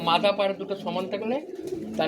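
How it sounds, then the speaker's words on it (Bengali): Giribaz pigeons at a home loft coo in low, wavering phrases close by, with a voice speaking over much of it. "দাদার বাড়িতে গিরিবাস পায়রা"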